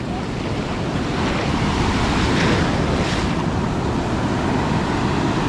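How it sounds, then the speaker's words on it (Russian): Pacific Ocean waves breaking and washing ashore in Costa Rica in a continuous roar, with wind buffeting the microphone and a surge building midway. "Вот такие волны."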